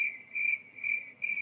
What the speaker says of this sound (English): so now I can do like crickets if I get boring or if I tell a bad joke